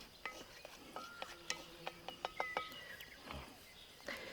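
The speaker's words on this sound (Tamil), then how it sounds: "வெடிக்குது சோம்பு." Fennel seeds crackling in hot oil in an outdoor wild kitchen, a string of sharp pops and small clinks spread across a few seconds, close and fairly quiet.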